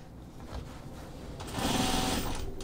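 A sewing machine runs topstitching on stretchy denim pull-on jeans, a fast steady mechanical whir that grows louder and denser partway through, close up with no speech.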